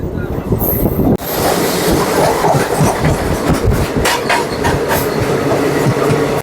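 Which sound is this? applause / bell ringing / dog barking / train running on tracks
train running on tracks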